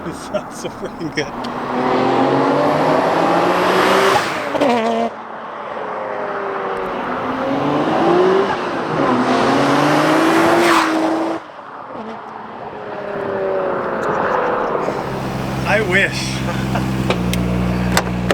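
A Nissan Skyline R33 GTR with a titanium exhaust revs hard in repeated rising and falling bursts, loud and close, with voices talking over it at points.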